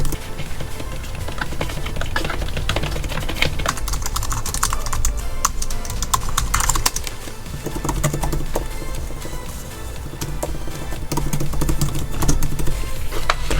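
Fast continuous typing on an Apple Magic Keyboard for iPad, a laptop-style keyboard with louder keys than a rubber-finished folio; dense, steady clicking runs close and clear throughout with no talking.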